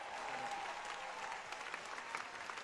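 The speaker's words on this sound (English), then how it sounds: "Clap for Jesus." Congregation clapping steadily at a church deliverance service in London, a dense, continuous wash of applause at moderate distance with no talk over it.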